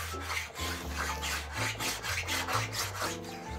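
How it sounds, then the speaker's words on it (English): Wood being planed level on a violin fingerboard, with steady rasping strokes repeating in a rhythmic back-and-forth pattern, close and fairly loud, with no talking. "But that's why he's going to be planing this out, making it nice and even, keeping a little bit of scoop"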